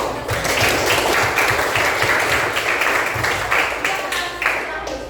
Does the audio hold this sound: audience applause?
yes